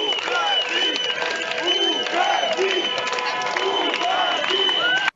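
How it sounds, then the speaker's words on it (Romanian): A crowd at a street protest in Belarus applauds and cheers in a sustained, dense wash of sound, with whoops and raised voices running through it and an occasional car horn. "Mulțimea a format lanțuri umane și a aplaudat."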